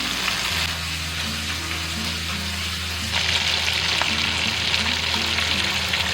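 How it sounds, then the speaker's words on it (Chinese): Marinated chicken pan-fries over medium-high heat, a steady close sizzle and crackle that grows louder and brighter partway through, with no talking. "然后接着把这个腌制好的鸡肉倒去，保持中大火煎。"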